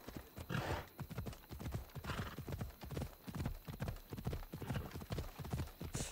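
A horse gallops in the video game Assassin's Creed Odyssey, its hooves beating in a steady, even rhythm of clear clip-clops that continues throughout at moderate volume, with no talking.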